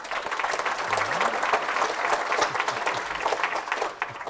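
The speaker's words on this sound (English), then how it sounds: "So please give them a hand of applause and welcome them onto the table." A conference audience at a summit claps to welcome a panel onto the stage, dense steady applause from a crowded room that holds throughout.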